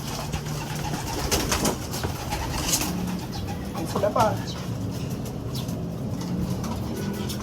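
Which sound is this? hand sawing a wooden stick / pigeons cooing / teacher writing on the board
pigeons cooing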